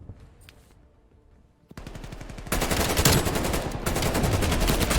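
Rapid automatic gunfire from the video game Call of Duty Black Ops Cold War during a competitive match, starting faint, then bursting into loud, sustained, dense rattling volleys.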